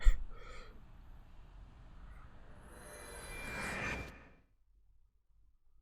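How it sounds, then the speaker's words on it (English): A computer-generated helicopter in the visual novel Chaos;Child gives a faint roar that swells over about four seconds and then cuts off abruptly into silence. "CG helicopter"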